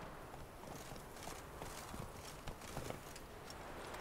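Hooves of the horse Roach in The Witcher 3 game clip-clop at a steady walking pace, faint and regular beneath a constant hiss of background ambience.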